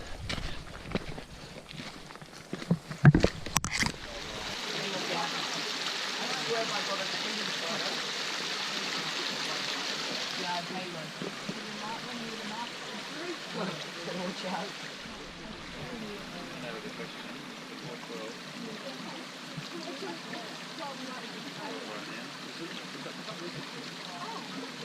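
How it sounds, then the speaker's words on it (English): Water flows over a small creek crossing along the Overland Track, a steady soft rush with a few footsteps and clattering knocks near the start before the stream carries on alone. "Another little creek crossing here."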